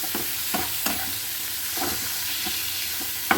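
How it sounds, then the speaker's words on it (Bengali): Spices and chili powder fry in a pan for a pabda fish curry, a constant bright sizzle with periodic scraping stirs, close and alone without voices. "এবারে আমরা এটাকে মশলাটাকে একটু কষিয়ে নেব।"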